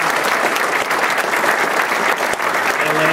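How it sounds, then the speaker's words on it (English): Audience at an evening book talk on Edison and Tesla applauds for the moderator and panel, a dense, steady wash of clapping filling the room for the whole stretch without letting up. "Round of applause, please,"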